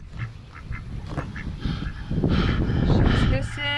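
A mother duck sits on her nest and gives raspy hissing and honking calls at close range while a person talks nearby.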